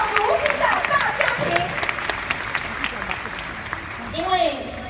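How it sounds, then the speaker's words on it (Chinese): An audience at a Nu Skin convention breaks into applause for newcomers, a dense burst of clapping that tapers off, with a voice speaking over it. "我们热烈掌声给到这些新朋友，好不好？"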